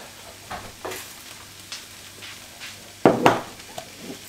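Leeks sweat in oil and butter in a pan, with a soft sizzle and a few utensil scrapes and knocks, one louder clatter near the end.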